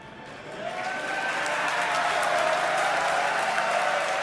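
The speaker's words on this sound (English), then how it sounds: "I have a feeling the crowd's about to go wild here." Crowd applause and cheering at a SpaceX Starship launch swell up from quiet and build into a sustained, dense roar of clapping and shouts.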